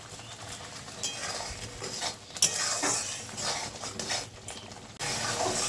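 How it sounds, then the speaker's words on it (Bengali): Broccoli curry with Kashmiri chilli powder and salt being stirred in a pan, giving scattered scraping and clinking of the utensil against the pan over a steady background hiss. "ভালো করে নেড়ে দেব।"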